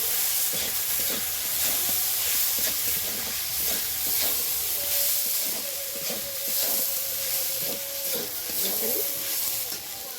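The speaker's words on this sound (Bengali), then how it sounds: "এবার সাবু আর সবজি একসাথে একটু নাড়াচাড়া করে নেবো।" Sago and vegetables stirred together in a hot pan for sabu pulao, a steady sizzle and hiss running throughout with repeated scraping strokes of a spoon against the pan, close and fairly loud, with no talking.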